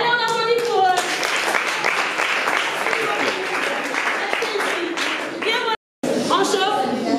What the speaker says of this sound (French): Allez, on applaudit pour eux.